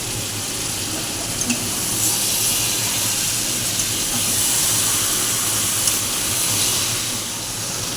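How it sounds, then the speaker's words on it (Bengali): A kilogram of cut chicken pieces fries and is cooked down in hot oil in a pan, giving a steady, loud broadband sizzle and hiss that runs throughout with slight swells and no talking. "এবার চিকেনটা আমি ভালো করে কষিয়ে নেব।"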